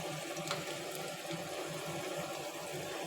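Chopped garlic sizzles in hot oil in a pan, a steady, soft frying hiss that stays even and unbroken throughout.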